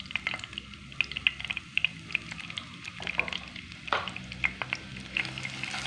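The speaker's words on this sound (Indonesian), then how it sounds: "Kita tumis sampai layu dan daunnya harum" Sliced shallots sauté in a hot pan with steady close sizzling, broken by frequent scraping stirs of a spatula, no talking.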